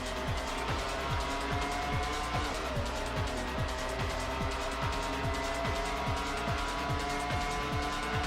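A Ferrari Formula 1 car's engine in an early-2000s racing video game, a steady high-revving drone that runs unbroken throughout, with rapid repeating pulses and a hint of tyre noise.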